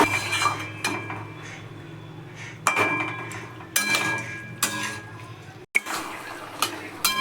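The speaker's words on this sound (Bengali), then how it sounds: "ভালো করে নেড়ে ঢাকা দিয়ে দেবো।" A pot of vegetable curry with prawns and watermelon rind being stirred, with scraping and clinking of a spoon against the metal pot, then a lid set down with a sharp clank. Several distinct clinks sound up close over low kitchen hiss.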